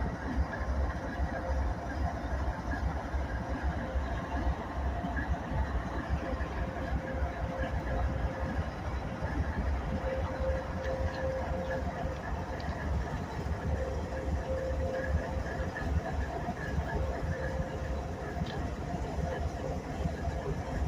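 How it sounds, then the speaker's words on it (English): A northbound coal train led by an ES44AH AC diesel locomotive rolls past steadily for the whole stretch, a continuous loud engine rumble with rail noise at close range, no pauses. "this is an ES44AH, so I assume it's an AC locomotive"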